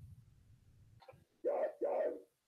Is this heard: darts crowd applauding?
no